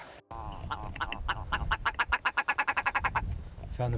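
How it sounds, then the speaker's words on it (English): Birds call outdoors on a morning hike, a loud, close run of rapid repeated calls that speeds into a pulsing series and then trails off. "Found the birds."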